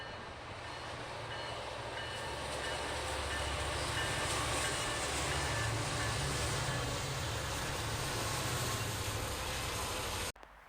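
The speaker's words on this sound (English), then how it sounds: "NS 539, which is a York Haven, Pennsylvania to Shire Oaks, Pennsylvania coal train" A Norfolk Southern coal train, symbol 539, runs from York Haven to Shire Oaks, Pennsylvania, rolling steadily past at close range with a continuous rumble and rail noise, holding a loud even level for about ten seconds before cutting off.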